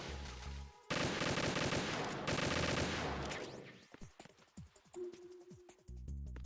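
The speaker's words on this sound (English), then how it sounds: "shoot out all these fingers" Gunfire in the video game Metal Gear Solid 2: Substance on PC, with loud dense volleys of shots at first, then scattered sharp single reports and metallic clinks toward the end.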